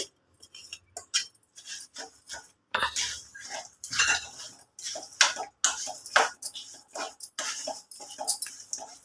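Coconut green chilli chutney is mixed in a bowl with a spoon, irregular bursts of clinking and scraping against the bowl separated by short pauses, close and distinct.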